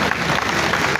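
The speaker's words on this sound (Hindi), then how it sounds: "ताली ना बजाए ना, हाँ करें, आएंगे कि नहीं?" An audience clapping at an engineers' event, a dense, steady patter of many hands applauding at close range throughout the short stretch.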